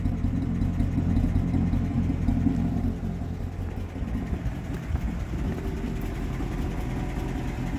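A 1941 Buick Special Sedanet engine idles after a few kilometers of light driving, a steady, smooth low murmur that settles slightly as the revs drop, with no talk over it.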